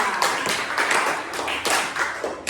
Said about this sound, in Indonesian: kalau itu kita kasih aplaus untuk kelompok 3